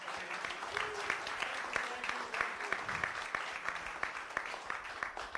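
Audience applause for a venture capital panel at an indoor event, steady dense clapping held at moderate level throughout, with a few voices faintly audible beneath it.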